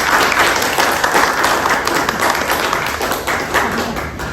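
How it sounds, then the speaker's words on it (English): An audience at a book launch event claps loudly and steadily for several seconds, dense applause tapering slightly toward the end, with no speech over it. "Let's give her a big round of applause."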